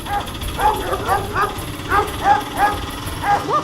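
Several dogs bark in short, repeated bursts, medium-close and fairly loud, in a comic street scene; the yapping comes at an uneven rhythm over a busy background.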